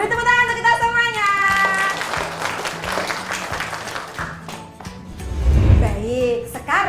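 A grade 6 mathematics class claps together during a lesson. A short burst of clapping is framed by sung or musical voice tones before and after it.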